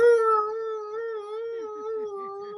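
A person's voice imitates a wolf howl, holding a long, steady, wavering tone that stays clear and fairly loud throughout with no talk over it.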